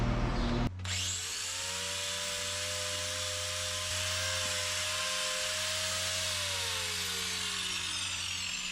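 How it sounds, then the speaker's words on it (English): A power grinder trims a dairy cow's hoof, a steady high whine with a rising then falling pitched tone held for several seconds at close range, running continuously with no talk. "Faster with the grinder."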